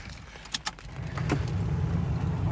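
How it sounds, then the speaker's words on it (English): Keys jingle and click as a Toyota MR2 Spyder with a 2ZZ engine is started, then the engine catches and settles into a steady, low, rumbling idle close by. "And now starting the car."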